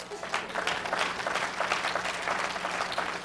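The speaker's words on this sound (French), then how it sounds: "on peut applaudir" A crowd claps together, the applause even and sustained at moderate volume, without any voices over it.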